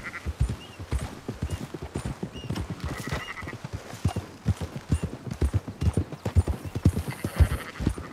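Rapid hoofbeats clop in a quick, uneven rhythm in Red Dead Redemption 2, a horse galloping up close, with a brief whinny partway through.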